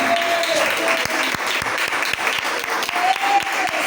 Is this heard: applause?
yes